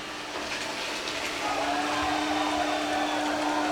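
Ecovacs Deebot N30 robot vacuum cleaner running across a scanned room floor, a steady close whirring hum with a sustained motor whine and airy suction noise that grows slightly louder partway through.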